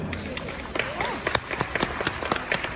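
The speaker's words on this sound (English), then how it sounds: "give a big round of applause and a thanks to our 2019 National Hereford Queen, Miss Emily Meinhardt" An audience at the American Royal 2019 Hereford event gives a round of applause, steady scattered clapping from a crowd in a large hall, moderately near.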